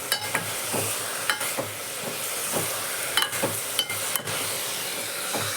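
Chopped greens (siru keerai) sauté with softened onion in hot oil, a steady close sizzle and hiss punctuated by intermittent clinks and scrapes of a stirring spoon against the pan, with no voices.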